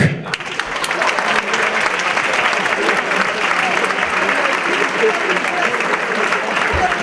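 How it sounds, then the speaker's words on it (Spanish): Sustained audience applause welcoming a speaker onto a conference stage, a dense wash of many hands clapping at steady volume for about seven seconds without pause. "Fuerte el aplauso para recibir a Estanislao Pajraj."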